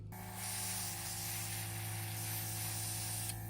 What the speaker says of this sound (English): you're just going to spray your nails